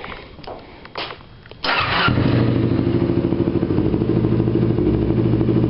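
A Kawasaki Ninja 250R with a Dan Moto aftermarket exhaust cranks with a few clicks and coughs, then fires up and settles into a loud, throbbing idle close by.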